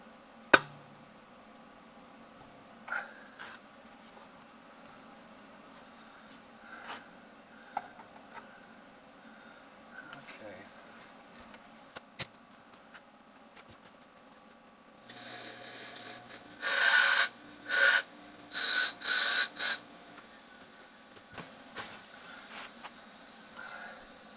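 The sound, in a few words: arc welding on a broken tractor bolt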